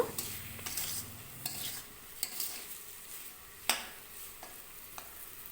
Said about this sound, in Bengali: আবারও ভালো করে নেড়েচেড়ে নেব